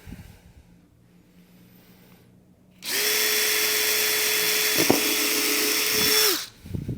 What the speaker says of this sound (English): Now once we have those 2 pilot holes drilled with our 1/8 inch drill bit